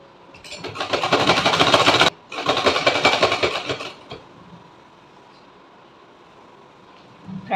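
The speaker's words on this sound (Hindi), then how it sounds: "और इस तरह से अब हम स्टिचिंग करेंगे।" A sewing machine stitches fabric for a Laddu Gopal doll dress in two loud, rapid, whirring bursts separated by a brief pause, then falls quiet with faint room noise.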